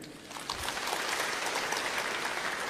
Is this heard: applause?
yes